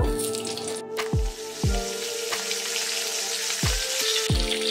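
Potatoes fry in hot oil in a wok, giving a steady, close sizzle broken by several sharp clinks at irregular intervals.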